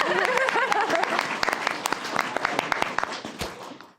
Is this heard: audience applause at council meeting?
yes